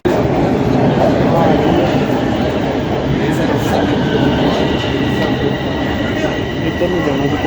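A train pulls into Union Station in Toronto with a loud, continuous rumble of wheels on rails and thin metallic squeal tones running over it, heard up close without a break.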